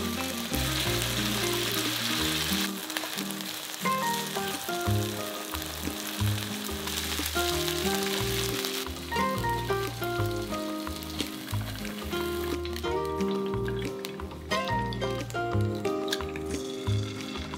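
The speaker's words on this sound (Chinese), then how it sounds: "热锅下油，将里脊肉煎至双面金黄后" Pork tenderloin fries in oil in a hot pan with a steady, crackling sizzle that runs unbroken throughout, under background music.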